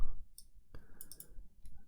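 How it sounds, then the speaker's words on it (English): Quick mouse clicks come while a computer game plays, a few crisp taps mixed with soft game chimes and a low background rumble, close and moderately loud, with no talking. "I'm just kind of clicking stuff, to be honest."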